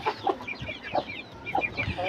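Mendia rooster from Gajipur giving a few short, soft clucks in quick bursts, close and fairly quiet with brief pauses between calls.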